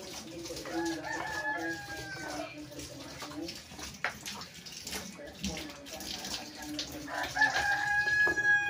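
Roosters crow several times amid clucking hens and splashing water, with faint voices in the background.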